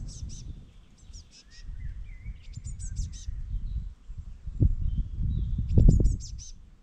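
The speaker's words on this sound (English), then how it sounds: "Suddenly I hear a faint chirping. It comes from a small hole in a tree." Faint, high chirps from baby birds inside a small hole in a tree along a forest hiking trail in Germany, coming in short repeated bursts over low rustling and footstep-like noise.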